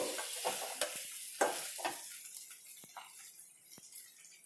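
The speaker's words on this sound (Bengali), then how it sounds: "আমার মাটন একদম লাল লাল করে পেঁয়াজ রসুনের সাথে কষে ভাজা হয়ে গেছে" Mutton browned with onion and garlic is stirred in oil that has separated, heard as faint, close stirring scrapes and soft clacks over a low sizzle that fades toward quieter, sparse taps.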